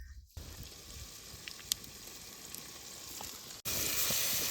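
Ginger garlic paste sizzles steadily in a hot pan while cooking chicken pulao outdoors in a village, a continuous frying hiss with a sharp pop partway through, then a louder burst of sizzling near the end.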